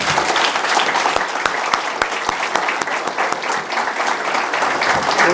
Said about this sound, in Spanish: quiero que ustedes se tributen el aplauso que se merecen por eso.